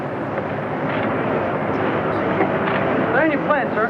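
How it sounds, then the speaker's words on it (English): A fixed-wing airplane passes overhead with a steady, loud droning roar that holds throughout, and a voice is briefly heard near the end. "Land your plane, sir."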